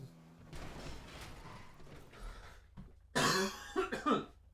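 A person with COVID coughs in a short, loud burst of several harsh coughs close to the mic, following a stretch of quieter background noise.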